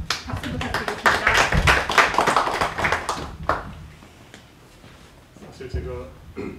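Applause from an audience at a book launch event, a burst of clapping for a few seconds that fades out, followed by a speaker beginning to talk.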